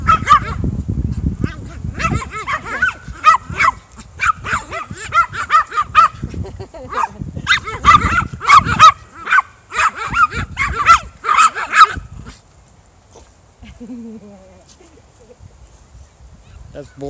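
Several dogs bark and yip in lively bursts over about twelve seconds, then things go quiet with faint sounds in the background.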